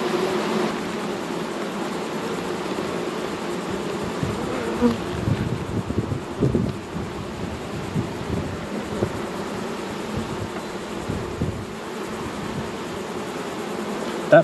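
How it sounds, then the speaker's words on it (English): Dense, continuous buzzing hum of a large mass of honeybees around open hive frames, heard up close and steady throughout, with faint handling noises underneath. "That's a lot of bees."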